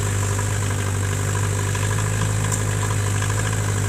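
A homemade tractor's engine idles close by in winter, a steady low rumbling hum with constant vibration and no breaks.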